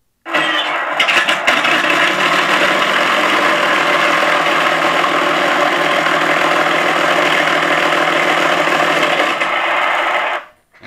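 Simulated twin-engine roar from an ESS Air Sound unit on a Flightline RC F7F-3 Tigercat 1600mm warplane model, a steady, loud, sustained engine drone that holds evenly for about ten seconds before cutting off abruptly.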